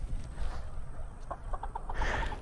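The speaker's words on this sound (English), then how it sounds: "Oh, we got the chickens back here." Backyard chickens cluck close by in a quick series of short, repeated calls over a steady outdoor background.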